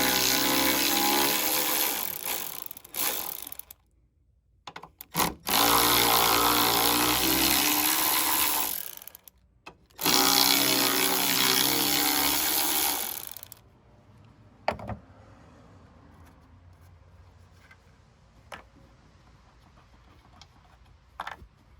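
Strut bolts on a 2004–2012 Chevy Malibu front strut being loosened with a powered ratchet: two long, loud whirring bursts and a few shorter spurts, followed by quieter clicks and handling sounds nearby.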